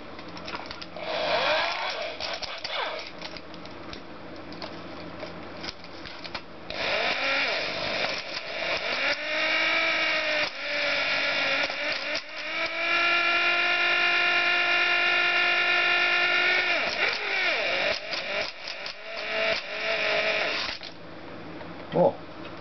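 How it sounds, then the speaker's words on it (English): An electric drill whines steadily in long bursts while being used to work a piston out of a Honda CX500/GL500 motorcycle engine, the motor pitch shifting as it loads and eases. "And then some little help from this guy and drilling machine"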